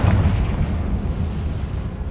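A Confringo fire spell bursts in Hogwarts Legacy, a loud, dense, rumbling blast of low boom that stays heavy and sustained throughout, with no talk over it.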